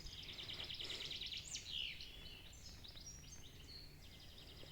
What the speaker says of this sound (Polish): Słuchajcie ptaków.